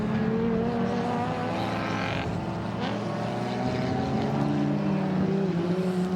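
V6 Alfa Romeo race cars lapping the Winton Festival of Speed circuit, engines droning at a distance with rising and falling pitch as they pass, steady mechanical hum throughout.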